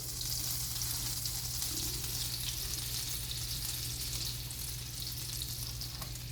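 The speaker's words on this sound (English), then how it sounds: "butter going in here, getting hot for the pork that's getting ready to go in" Butter sizzles steadily in a hot pan, heating for pork Marsala, a continuous close, even hiss that holds at one level throughout, with a low hum beneath and no talk.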